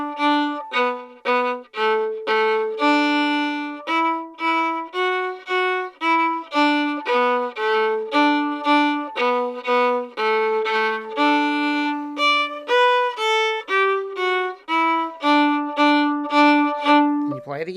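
Opening section of the fiddle tune Arkansas Traveler played alone on a bowed string instrument, a steady run of clear sustained notes at a moderate, even tempo, close and loud, with no talking.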